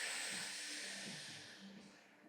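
A long, soft breath drawn in during breathwork, an airy hiss held for about two seconds that fades gently, quiet and close.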